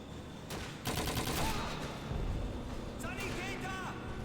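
Thompson submachine gun bursts in Call of Duty 2, a 2005 World War II shooter, as rapid rattling automatic fire mixed with other battlefield gunfire under someone talking.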